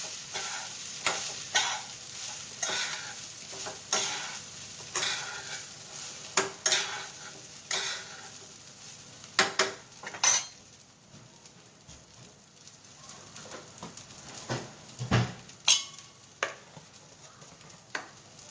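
Cold cooked plain rice being stirred in a pan for fried rice, with repeated scraping strokes of a spatula over a soft sizzle, some strokes sharper and louder, with no talking.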